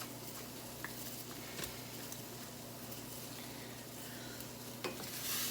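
Chicken pieces coated in taco seasoning tossed in a hot pan, giving a steady, dense sizzle with soft stirring scrapes and occasional clicks throughout, no voices.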